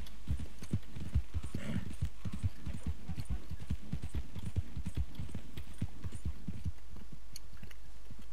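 Hooves of a Criollo horse clip-clopping in Red Dead Online, a steady, evenly paced run of close, distinct hoofbeats with a low hum underneath.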